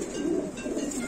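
A Lahori pigeon coos at a pigeon market, a low rolling burble heard close and fairly loud over a busy background hum.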